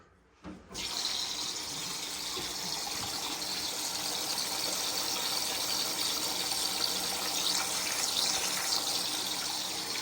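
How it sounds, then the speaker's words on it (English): A Bosch washing machine with its door locked fills with water, a steady rushing gush that starts abruptly after a brief quiet moment and runs on evenly and close by, with no talking. "You can actually see how it's filling with water."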